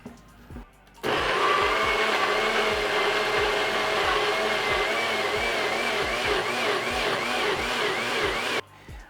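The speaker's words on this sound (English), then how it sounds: "And then throw it on the blender." A blender whirs loud and steady while blending jalapeno hot sauce, switching on abruptly after a brief pause and cutting off near the end, with a rhythmic churning chop running through the motor's drone.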